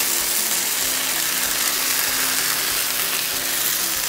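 A keto tortilla fries in a lightly oiled pan over medium-high heat, giving a steady, close sizzle that holds evenly throughout without a break.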